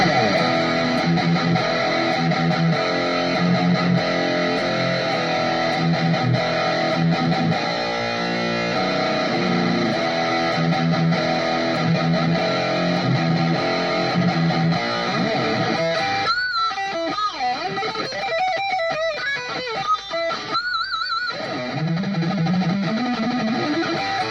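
A distorted electric guitar plays sustained chords and riffs for a long stretch, loud and gritty, with a brief break and bent notes near the end.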